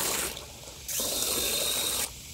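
Water from a garden hose pours into an Everbilt WB22 canopy weight bucket with a steady loud hiss, growing brighter in the middle as the flow strengthens.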